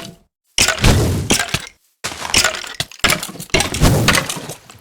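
Blocks of a wall crunch and shatter as a mob breaks through in the modded Minecraft game TerraFirmaPunk, three loud bursts of breaking and cracking noise separated by brief silences.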